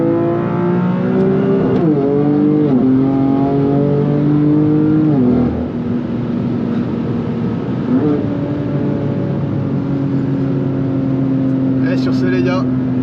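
A BMW M3 CS with a 580 hp engine revs repeatedly, the pitch climbing and dropping in steps before settling into a sustained loud drone; heard up close without talk.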